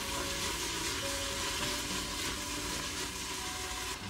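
Rajma masala spices stirred in a hot pan, a continuous low sizzle with faint stirring, close and quiet, with no talk.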